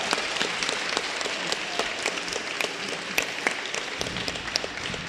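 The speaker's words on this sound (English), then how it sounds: "Give yourselves a round of applause." An audience at a women's panel discussion event bursts into steady, sustained applause, a dense wash of many hands clapping at moderate distance throughout.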